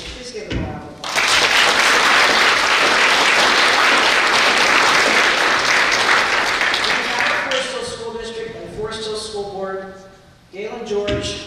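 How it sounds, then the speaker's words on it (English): Audience applause at an alumni association banquet evening fills the room, starting after a second and holding steady and loud for several seconds before thinning into scattered claps as voices talk over it. "Please give them a round of applause."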